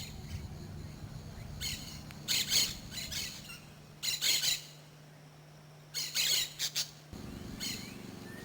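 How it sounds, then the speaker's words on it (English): Red-lored parrots calling on the Caribbean slope of Costa Rica: three or four bursts of harsh, raspy squawks at a moderate distance, with quiet low background rumble between the calls. "The red-lored parrot is more common along the Caribbean slope in Costa Rica."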